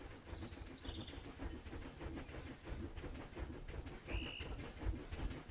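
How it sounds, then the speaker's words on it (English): A train rattles along in the Planet Zoo park-building game, a faint, rapid clicking of wheels over track heard beneath soft background ambience, with a couple of short high bird-like chirps on top. "Oh, a train! It's like, what in the world is that clicking sound?"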